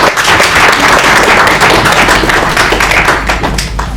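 Audience applause for an ambassador at a refugee-focused gathering with the Editors Guild, a loud, dense, continuous wash of many hands clapping close by, steady for several seconds without talk.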